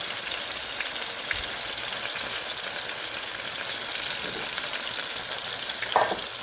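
Fresh-caught catfish frying in a pan in a regular home kitchen give a steady, close crackling sizzle with occasional faint clicks and no talk.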